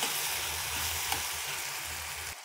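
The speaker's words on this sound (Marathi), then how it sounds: "पुन्हा आपण एक वेळा हलवून घेऊ आणि परत झाकण ठेवू, म्हणजे ते लवकर वाफेने पटकन शिजतील." Tomato chutney cooking in a pan gives a soft, continuous frying hiss with faint stirring scrapes, fairly quiet and unbroken until it ends abruptly.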